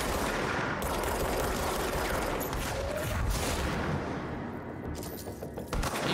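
A gun in the video game Control fires in steady rapid bursts, loud and dense like automatic fire, thinning slightly toward the end with a few sharper reports.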